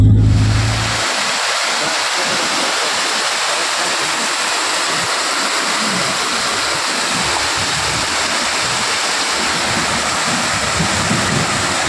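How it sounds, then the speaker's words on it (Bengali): A small waterfall in Bhutan rushes in a loud, continuous broadband roar that holds steady throughout, with no voices over it. "ভুটানে ছোটো একটা ওয়াটারফল, খুব সুন্দর লাগছে"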